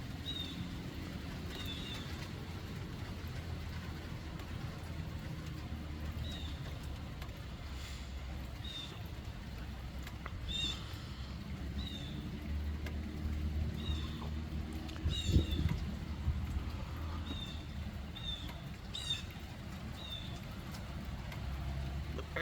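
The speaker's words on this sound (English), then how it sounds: "The birds talking to each other." Birds chirp in repeated short bursts over a steady wash of gentle rain in an outdoor setting, with a low rumble underneath, the calls moderately distant and the rain constant throughout.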